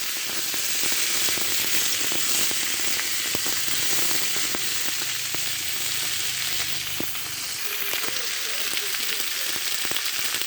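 Green bananas fry in hot oil with a loud, dense, continuous sizzle like steady rain, dotted with sharp spitting pops and a few faint stirring scrapes, with no one speaking.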